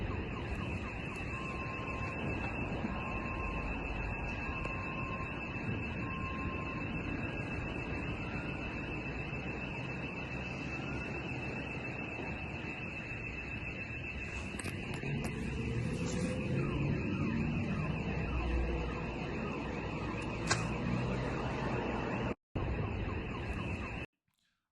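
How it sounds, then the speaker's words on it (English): Car alarms wail and cycle over a low ambient rumble in a city in central Ukraine after an explosion strike, steady and distant for most of the stretch, with brief louder bursts near the end and no talk. "you're going to hear lots of car alarms going off and just all these fires that broke out"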